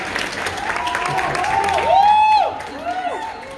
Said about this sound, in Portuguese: a gente podia aplaudir de novo